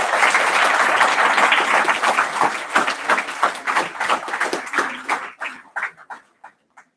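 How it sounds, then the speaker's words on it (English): Audience applause at a business conference session, dense at first and then thinning into scattered individual claps that die away after about six seconds. "Ladies and gentlemen, a big round of applause."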